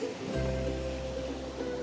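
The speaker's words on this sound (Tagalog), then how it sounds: "Ayun yung dagat." Sea waves washing onto a beach make a steady, full-bodied roar with deep low rumble. The surf sounds close and continuous throughout, with no voices.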